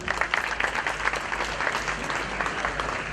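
Sustained applause from an audience at an economics conference closing ceremony at a college, steady dense clapping filling the whole stretch without pause.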